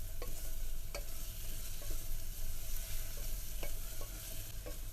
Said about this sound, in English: we're going to add the ginger garlic paste. And like usual, we're going to saute them